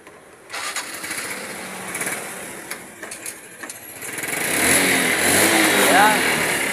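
A motorcycle engine with a newly replaced CDI starts up and settles into a rising, steady running note, close and loud, after some earlier clatter and handling noise.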